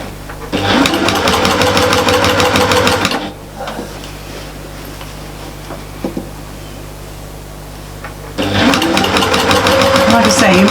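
Close sewing machine topstitching bias binding, a loud steady mechanical whir for nearly three seconds, then a pause filled with quiet handling noises, before the machine runs again in a second long burst.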